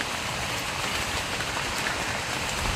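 Heavy rain falling outdoors near a tree, a dense, steady hiss of downpour spattering on surfaces, loud and unbroken throughout with no voices.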